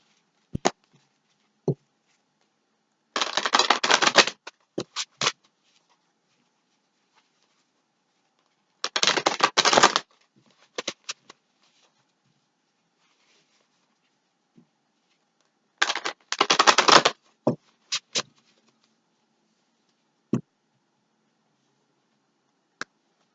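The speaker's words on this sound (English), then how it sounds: "I'm going to separate the cards right here" Tarot cards are separated and riffled in three distinct bursts of crisp fluttering shuffles, close and clear, with scattered single taps and clicks between them in an otherwise silent room.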